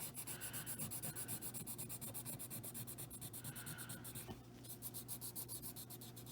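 A colored pencil blends and burnishes over a coloring page with quick, rhythmic rubbing strokes, close but soft, with a brief pause before the scratchy back-and-forth resumes.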